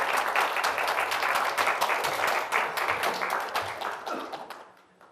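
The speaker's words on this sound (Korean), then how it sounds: "이럴 때는 학생들이 기분 좋아서 박수를 한번 칩니다" A room of secondary-school students applauds together for about five seconds, dense and lively clapping that thins out and fades at the end.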